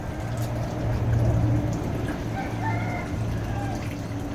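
Chickens cluck and call softly over a steady wash of falling rain, with no talking.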